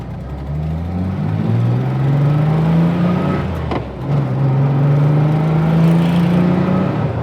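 A five-cylinder car engine hums steadily as the vehicle drives, pitch climbing through gears with a brief dip between shifts, no voices.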